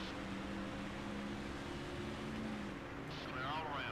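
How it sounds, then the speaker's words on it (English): Race car engines from the video game NASCAR Thunder 2004, a steady droning roar at moderate level with a sustained engine whine, ending with a brief high-pitched tonal sweep. "I know for a fact y'all can hear all of these car sounds."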